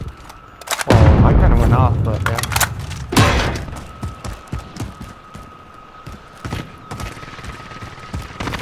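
Gunfire in the video game Call of Duty Warzone: a loud burst of rapid shots up close, then scattered single thumps and cracks with a steady tone underneath, under speech.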